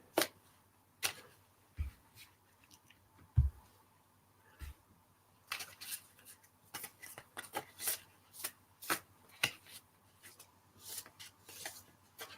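A tarot deck is shuffled by hand, giving quiet irregular bursts of riffling and tapping cards with short pauses between, close and alone.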